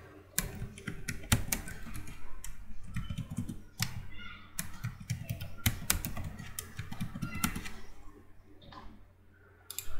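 Rapid, irregular typing on a computer keyboard while entering a username and password during virtual machine setup, with clustered clicks and brief pauses running steadily throughout, fairly close and without talk.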